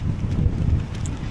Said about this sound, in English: It's getting windier as I'm heading up.